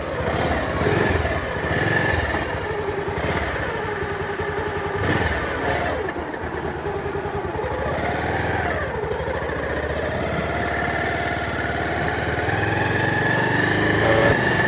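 A friend's motorcycle engine runs steadily nearby with a buzzing, mid-pitched drone that holds its level throughout, and faint voices sit under it.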